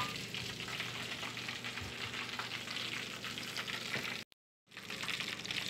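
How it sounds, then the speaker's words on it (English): Chicken frying in hot oil in a home kitchen, giving a steady, close crackling sizzle with faint stirring, briefly dropping to silence before the sizzling resumes. "I start already frying my fried chicken"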